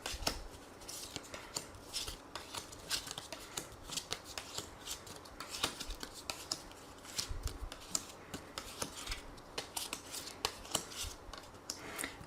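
Playing cards are shuffled by hand for a card reading in a series of quick, soft riffling and rubbing bursts, close and fairly quiet, repeating steadily with no talk.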